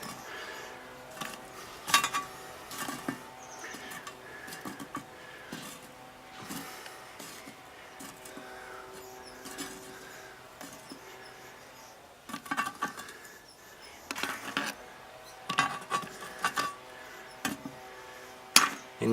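Campfire charcoal briquettes are set one by one around the rim of a cast-iron Dutch oven lid for a blackberry dump cake, giving scattered close clinks, scrapes and metallic taps over a faint background, with no talk.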